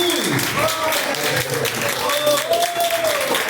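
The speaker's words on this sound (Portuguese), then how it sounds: "com as palmas de vitória para Jesus" A church congregation claps during a live service, steady applause beneath sung or spoken voices with sliding tones, moderately loud throughout.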